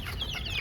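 Hungry free-range desi chickens cluck briefly in their coop, waiting for a late lunch; a short, close burst of agitated clucking with no talk.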